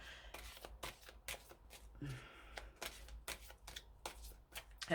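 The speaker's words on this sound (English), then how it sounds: "This is why I'm not liking the gloss, because it makes the shuffling, well, not the most pleasant experience." Glossy oracle cards are shuffled by hand in quick, irregular riffling bursts with short pauses between them, close and quiet, with no talking.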